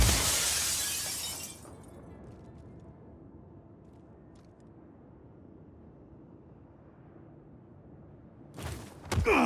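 Glass on a hangar breaks apart under gunfire in Just Cause 4, a loud bright crash and shower of shards at the start, then a low ambient hum before a second burst of shattering near the end.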